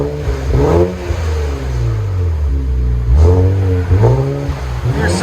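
A 2019 Infiniti Q50 with a 3.0L V6 and Stillen cat-back exhaust revs up and down several times, its deep exhaust note rising and falling in close, loud bursts.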